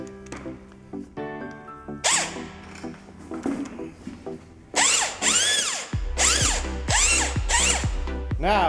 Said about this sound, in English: if you can hear this drill arguing or working hard, it's probably too thick